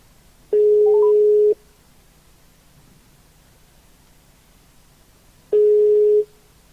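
A phone call's ringback tone: two steady one-second tones about four seconds apart, separated by quiet line hiss, with no voices.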